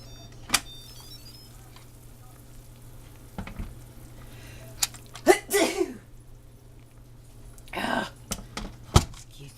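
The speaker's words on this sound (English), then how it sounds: "There's that sneeze again." A single short sneeze is heard in a kitchen alongside the hiss of pressure releasing from an Instant Pot cooking pork chops, with scattered clicks and faint background noise.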